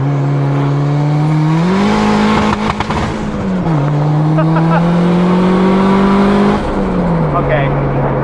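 A turbocharged Honda Civic holds high revs while brake boosting, its engine drone stepping up in pitch, holding, dropping back and rising again, loud and close inside the car, with voices talking over it.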